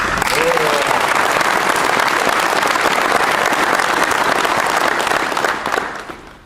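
Loud, dense applause at a military change of responsibility ceremony honoring a sergeant major, color guard and dragoons, continuous clapping that fades near the end.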